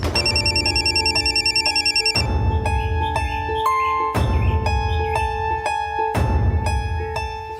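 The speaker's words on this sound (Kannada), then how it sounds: "ಅಯ್ಯೋ, ಸಾಹೇಬ್ರು ಫೋನು." A telephone rings in a repeating electronic bell pattern, with four loud, evenly spaced bursts of trilling tones that fill the room with no voices.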